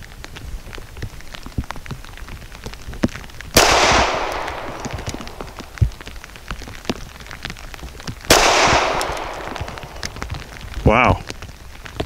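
Two loud, sharp shots from an SCCY CPX-4 pistol firing aluminum-cased ammunition, several seconds apart, each with a long ringing decay, over a steady outdoor background with scattered small clicks and knocks.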